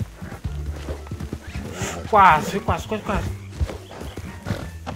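A horse in the Western video game Red Dead Redemption, played in roleplay, gives hoof clops and a brief whinny mixed under excited, almost constant talking.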